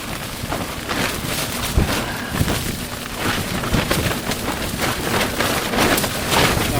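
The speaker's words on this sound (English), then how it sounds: "we're in the shelter because it's pissing down." Heavy rain hisses steadily with irregular sharper pattering hits on a shelter at Blyth Quayside, mixed with wind rumble against the microphone, loud and close.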